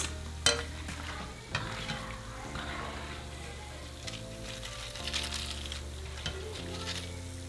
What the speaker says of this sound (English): we're just going to fry them until they turn into a beautiful golden color